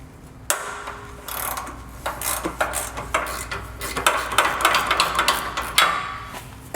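A hand ratchet loosens a bolt on a Lexus GX460, giving quick bursts of close, sharp clicking in an uneven rhythm, with no voices.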